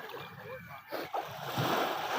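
Beach surf rolls in with a steady, broadband wash of sea waves and splashing water, heard close by with a voice talking over it.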